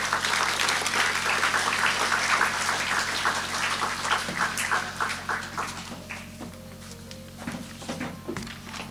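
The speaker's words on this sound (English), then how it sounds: "Yes, a round of applause." An audience applauds the principal at a graduation ceremony. The dense, steady clapping fills the room, then gradually thins to scattered claps with some faint background noise.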